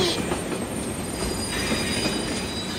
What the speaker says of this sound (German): Aber als er dann sah, wie der große Zug immer näher und näher kam